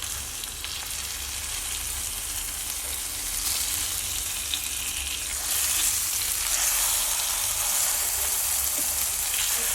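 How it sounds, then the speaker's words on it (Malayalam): Fish frying in coconut oil over a medium flame gives a steady, dense sizzle throughout that grows louder and brighter midway, with no talking. "മീഡിയം ഫ്ലെയിമിൽ വെച്ചിട്ട് തന്നെ ഫ്രൈ ചെയ്തെടുക്കണം"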